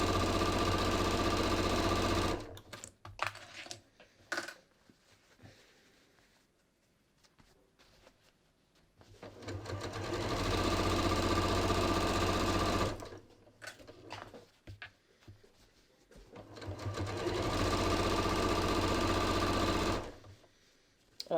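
A sewing machine stitches a half-inch seam allowance while tapering flared ready-to-wear jeans, running in three sustained loud whirring bursts separated by quiet pauses with small handling noises.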